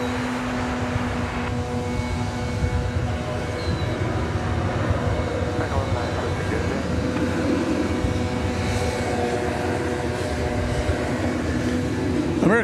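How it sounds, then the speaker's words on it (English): An American Airlines jet bound for Fresno rolls down runway 18 Left at DFW Airport. Its engines give a steady, broad roar with a faint whine on top, heard from a distance and unchanging throughout. "American Flight 1729 is now rolling down on 18 left"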